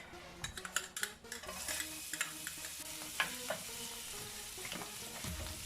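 Garlic goes into a reducing tinned mackerel rundown sauce and sizzles in the pot, with a spoon scraping and stirring in uneven bursts of clatter over a steady close frying hiss.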